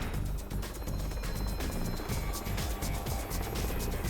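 A steady, loud helicopter drone with dense low rotor thumping and broad engine noise, continuous throughout without any pauses.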